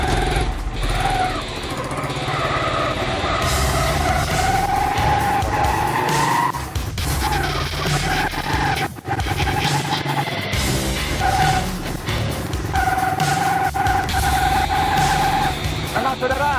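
Motorcycle said to run on pure water fuel being ridden, a continuous close engine drone with rising and falling whine and wind rush, broken by occasional bumps.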